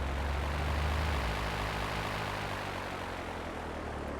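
Steady, loud drone of a propeller plane engine in GTA 3, a constant close roar with a low rumbling hum and broad hiss and no break.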